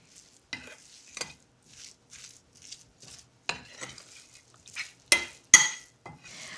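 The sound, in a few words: fish kebab cooking and getting squidgy in the pan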